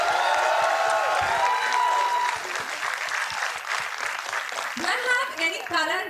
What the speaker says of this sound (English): So for yourself, a huge round of applause.